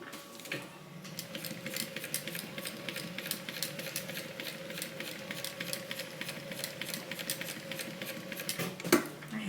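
A sewing machine stitching a Bible cover runs steadily at close range, its rapid even needle clatter continuing with no pause and no talking.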